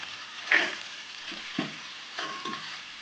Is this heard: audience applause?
no